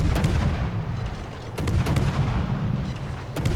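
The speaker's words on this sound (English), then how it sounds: "I'll just keep blind firing." Naval guns firing from the Friesland warship in World of Warships, deep booming shots over a heavy rumbling background, with a few distinct blasts standing out from the steady din.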